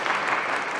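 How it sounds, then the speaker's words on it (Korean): A church congregation at a Korean mission church's Sunday service in Berlin bursts into dense, steady applause, many hands clapping together at close range and filling the room without a break. "예, 박수 한번."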